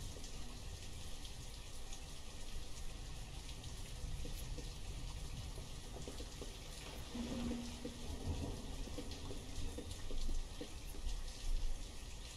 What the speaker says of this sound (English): I'm just stating the fact that it is raining.